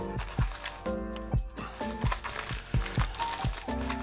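Plastic garbage-bag style packaging crinkling and rustling as it is opened, close and busy, with sharp irregular crackles throughout.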